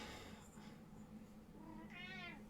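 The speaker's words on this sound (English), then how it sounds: "There's my cat. She really wants food." A hungry house cat meows for food indoors during a home yoga session, a single drawn-out, rising-and-falling meow near the end of a quiet stretch of room tone.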